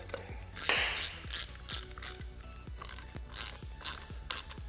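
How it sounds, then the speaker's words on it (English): A hand ratchet with a 9/16 socket tightens the prop nut on a Minn Kota Fortrex trolling motor, giving a steady run of sharp, close clicking pawl strokes with a brief louder rasp near the start. "And we'll take our 9/16 socket"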